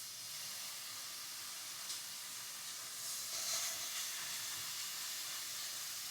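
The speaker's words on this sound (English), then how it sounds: "just going to pan sear these 2 bacon pieces" Two pieces of bacon searing in a hot pan make a steady, bright sizzle and hiss, close and even throughout with slight swells, and no talking.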